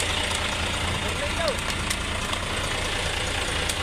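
Isuzu Forward truck with a 6HE1 diesel engine idling steadily up close, a constant low rumble with a faint knock, voices chattering over it throughout.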